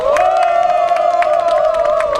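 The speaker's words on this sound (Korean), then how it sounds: "우리 옆 동네 안호영 의원님께도 박수 부탁드립니다" At an election campaign rally, a crowd keeps up loud, continuous cheering and scattered clapping for lawmaker Ahn Ho-young, with a sustained droning tone holding underneath.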